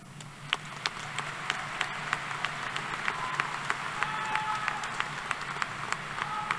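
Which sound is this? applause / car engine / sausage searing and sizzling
applause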